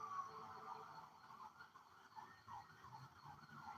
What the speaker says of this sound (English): I think that might be an ambulance or a fire truck.